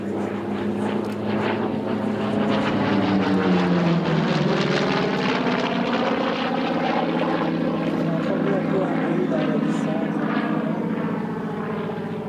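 A Vought F4U-5N Corsair propeller plane flies over at Haguenau with a loud, continuous engine drone whose pitch sweeps downward as it passes, while someone talks over it.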